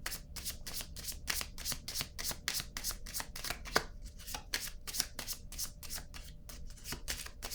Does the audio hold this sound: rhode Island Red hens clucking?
no